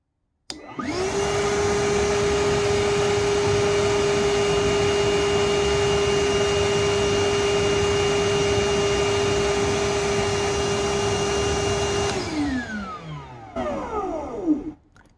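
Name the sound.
Milwaukee cordless vacuum cleaner running during noise test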